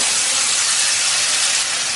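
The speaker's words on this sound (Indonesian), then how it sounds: "Kita akan tumis sampai nanti harum." Ground spice paste sizzles in hot oil in a wok, a loud, continuous close hiss with no talk, while chicken is being prepared.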